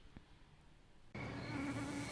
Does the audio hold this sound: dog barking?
no